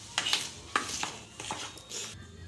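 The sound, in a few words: mixing dry pancake ingredients in a bowl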